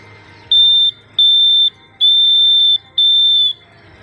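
Morse code for the letter F: four steady, high-pitched electronic beeps in a short-short-long-short pattern, clear and alone against a quiet background.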